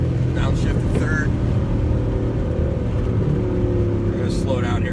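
A Mercedes C63 AMG engine drops to third gear while driving a twisting road, its deep steady drone loud and continuous throughout, heard from inside the car.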